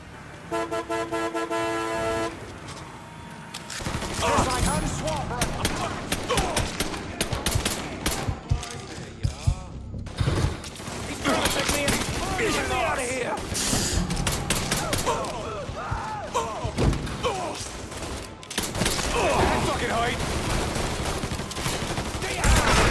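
Enemy gunfire in the video game Mafia III: sustained bursts of automatic shots and rapid popping, loud and dense, with a car horn blaring at the start and game noise throughout.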